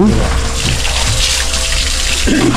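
Water is drawn for abhishekam at a Murugan hill temple, a loud, steady gush of running water close up that carries on without a break for the whole stretch.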